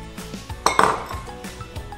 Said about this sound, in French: Et vous continuez de mélanger.